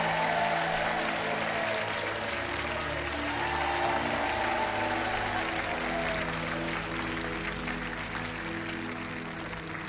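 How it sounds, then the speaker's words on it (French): Studio audience of a French TV game show applauds steadily throughout, a dense, continuous wash of clapping with a faint crowd murmur underneath. "On vous laisse repartir sous les applaudissements"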